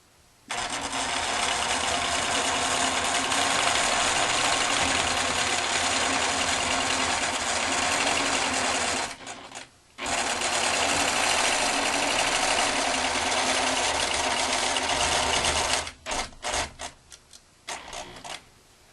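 A long arm quilting machine stitches across a quilt while an interlocking-circle template guides it, making a steady mechanical hum that pauses briefly in the middle and ends with a few stop-start bursts.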